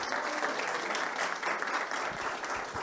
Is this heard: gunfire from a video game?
no